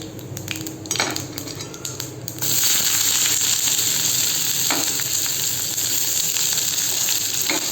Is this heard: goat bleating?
no